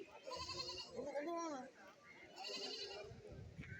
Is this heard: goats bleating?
yes